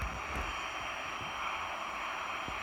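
An Airbus A380 engine in a flight simulator game makes a steady, even jet roar, loud and unbroken throughout with no voices over it.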